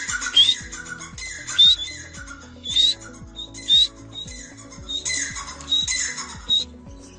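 A recorded partridge (teetar) call plays back in repeated bursts of harsh squawking notes. Sharp rising human whistles are mixed in alongside it, and a low ticking pulse runs steadily underneath.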